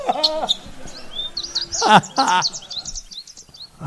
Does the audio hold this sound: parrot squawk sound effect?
yes